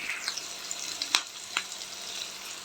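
Potato pieces frying in a pan give off a soft, close sizzle with a few sharp pops and clicks spaced through it; no voices.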